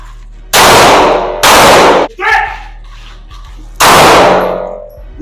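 Three loud, close gunshots ring out during shot timer practice at the beach, each a sharp blast with a long ringing tail, the third after a short pause.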